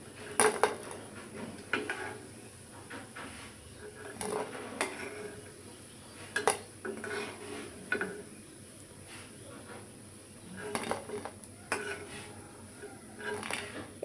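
Crispy piyaju onion fritters being handled, giving scattered light clatters and scrapes of utensils against a pan or dish, irregular knocks and rustles spaced over quiet room tone, close by.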